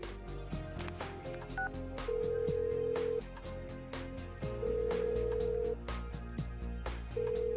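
A cell phone is dialed in the video game Persona 4 Golden. Short electronic keypad beeps and longer sustained dial tones alternate over a steady rhythmic background music track, with no talking.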